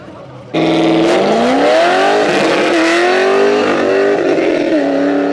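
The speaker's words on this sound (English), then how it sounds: "Super loud, obnoxious Corvette." A loud Corvette engine roars in abruptly and stays close, its pitch climbing and dipping as it revs and shifts, rumbling continuously to the end.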